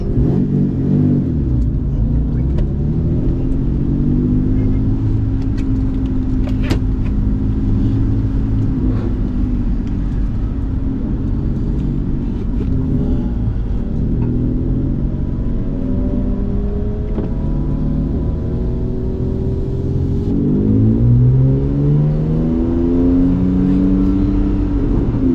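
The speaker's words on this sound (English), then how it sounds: "enjoy the lap with fantastic E90 325" BMW E90 325 lapping the Nürburgring, its engine droning loudly and steadily as revs rise and fall through gear changes, close and continuous with no talking.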